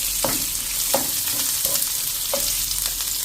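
Chopped medium onion and two green chillies fry in hot oil in a pan with a steady sizzle, broken by a few sharp stirring scrapes at irregular intervals; no voices.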